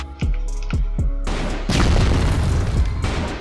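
A grenade goes off in a shooter video game: a few sharp booming shots, then a heavy, rumbling blast that lingers loudly to the end.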